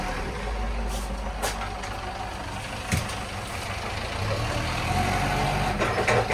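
A lorry pulls up on a farm to collect a load of wheat, its engine rumbling steadily at close range with a short air-brake hiss partway through and the idling growing slightly louder toward the end.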